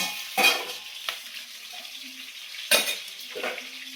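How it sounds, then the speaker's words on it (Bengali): Crab pieces frying in hot oil in a Bengali home kitchen, a soft steady sizzle broken by a few sharp spatters and clinks of a utensil against the pan. "এদিকে আমার ক্যাংড়াটা ভাজা হচ্ছে হোক"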